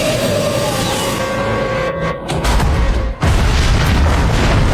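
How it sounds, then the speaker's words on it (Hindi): A gas explosion in a film that flips over an RV, a loud deep boom with a rumbling burst and a brief dip before heavy continuous roaring noise, close and dominant. "गैस के धमाके ने आरवी को पलट दिया"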